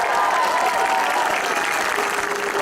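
A crowd at a county intermediate football final presentation applauds loudly and continuously, with some cheers mixed into the dense clapping.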